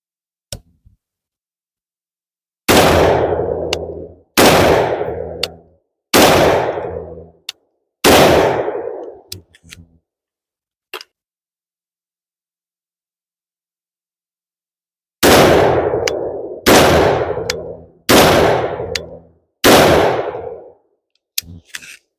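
Rifle gunshots fired with a Dead Air flash hider and no suppressor: two loud, close groups of four sharp, booming reports each, evenly spaced about a second and a half apart, with a long quiet gap between the groups and no talking.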